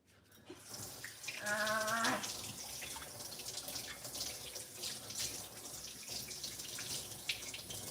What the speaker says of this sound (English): Wash the turkey off my hands.